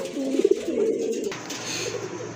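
Danish pigeons, a pair, coo in a few low rolling calls close by, then fall quiet under faint background noise.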